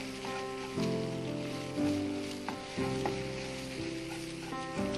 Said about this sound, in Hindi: ताकि ये दूध और सूजी अच्छी तरह से भुन जाए।